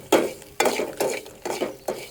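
Green chillies, curry leaves, turmeric and salt being sautéed in a pan, five rhythmic spatula strokes scraping and stirring over a soft sizzle, close and moderate in level, no speech.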